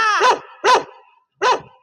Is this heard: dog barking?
yes